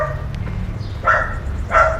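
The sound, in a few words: dogs barking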